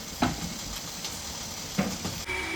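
A little oil in a pan while Gatte Jodhpuri is cooked: a soft, steady sizzle and hiss, close and moderate, with two brief clattering stirs of a utensil.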